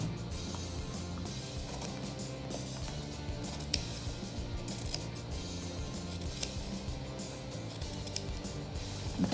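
Scissors cutting material for DIY Halloween shoes, producing soft, steady snipping and rustling close by under a constant low background hum.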